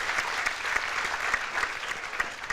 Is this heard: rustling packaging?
no